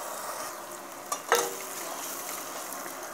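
Minced meat and onions frying in a pan with chili flakes and black pepper, a soft steady sizzle with a couple of brief stirring scrapes, no talking.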